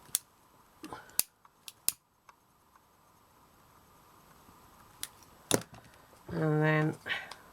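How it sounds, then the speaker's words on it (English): Scissors cutting satin fabric into a circle: a handful of sharp, close snips spaced irregularly through a quiet room, followed by a brief voice at the end. "Cutting it into a circle"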